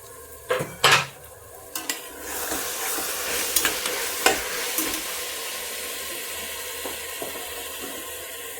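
Chopped tomatoes tipped into a pan of sautéed ginger-garlic paste for tomato rice, with loud clattering metal spoon scrapes against the pan at first, then a steady hiss of sizzling and stirring, no voices.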